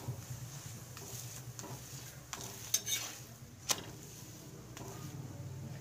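A paratha roasts on a hot pan with a soft, steady sizzle, broken by a few sharp clinks and scrapes of a utensil against the pan; no talking.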